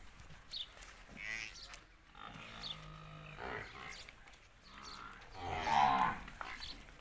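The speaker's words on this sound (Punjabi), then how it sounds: "ਇਹ ਮੱਝ ਵੇਖ ਲਓ" A Nili buffalo on a farm gives several deep, drawn-out moos and groaning calls, close and fairly loud, separated by short pauses with faint farm background.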